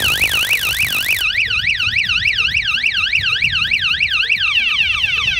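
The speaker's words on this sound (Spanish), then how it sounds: "se va a activar un sistema, se va a activar una alarma" A loud electronic alarm wails, first with a rapid warble and then a fast rising-and-falling sweep repeating over and over, close and continuous.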